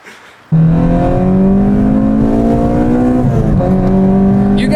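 Acura RSX engine starting up abruptly and revving hard before a race, a loud sustained rising drone with a brief dip as the revs shift, close and alone.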